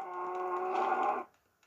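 A single cartoon-style cow moo, loud and close, holding steady for just over a second before cutting off, with only faint noise after and no talking.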